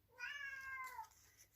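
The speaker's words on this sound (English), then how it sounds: "And that's the cat. She's decided she wants to get out." A pet cat lets out a single drawn-out meow indoors, clear and fairly close but soft, in an otherwise quiet room.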